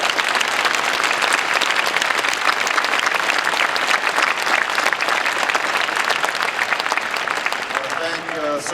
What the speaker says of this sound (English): I want everybody to give him a round of applause.